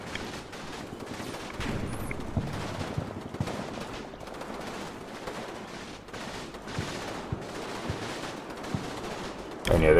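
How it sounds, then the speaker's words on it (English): Heavy machine guns fire in a sustained, dense stream of gunfire during a war video game battle against a tree line, continuous and loud throughout with overlapping bursts. "Machine guns, the heavy machine guns off to the right are just doing good work laying into this whole tree line."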